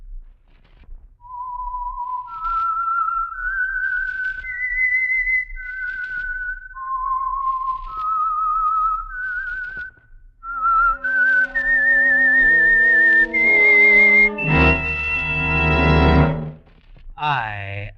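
Signal Oil radio program identification whistle from The Whistler: a lone whistled melody of rising and falling sustained notes, then joined by a fuller orchestral swell that builds to a loud, sustained chord before ending.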